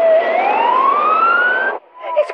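A loud wailing basic life support ambulance siren rises in pitch, then cuts off abruptly, followed by fainter chirps of a second siren tone.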